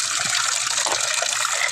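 Flood water gushing steadily and loudly, a continuous close rush of flowing water with no voices.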